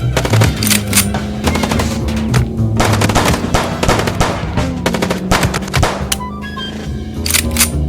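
Rapid machine-gun bursts and gunshots crackle loudly from a car chase shootout in the video game Chicken Police, repeated volleys over an engine drone, with a voice briefly heard between bursts.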